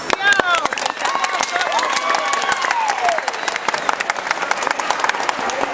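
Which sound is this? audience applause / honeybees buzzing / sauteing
audience applause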